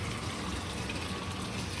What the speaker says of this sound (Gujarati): પાણી ભરાય છે